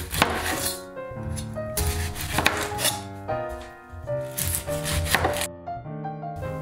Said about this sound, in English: So just chop it into chunks.